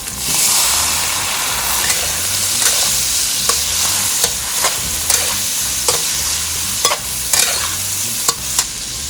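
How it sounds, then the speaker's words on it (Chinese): Minced meat sizzles in a wok for Sichuan mapo tofu, seasoned with Sichuan peppercorns and cooking wine. A steady frying hiss runs under repeated sharp spatula scrapes and clinks as it is stirred, close up and without talk. "肉差不多炒到这种微褐色的时候哦，熟了"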